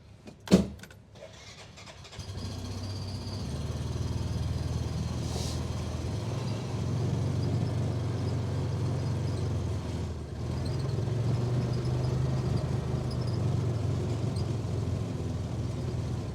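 A truck on a farm being driven into a barn before a snowstorm: a sharp thump, then the engine starts and settles into a steady, close, low rumble that holds with slight swells throughout.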